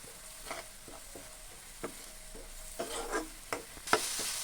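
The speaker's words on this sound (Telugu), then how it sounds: "ఆనియన్ పేస్ట్ దోరగా వేగింది" Onion paste frying in a pan for a chilli masala curry, with a soft steady sizzle broken by scattered scraping stirs of a spoon against the pan, close and moderately quiet, no voices.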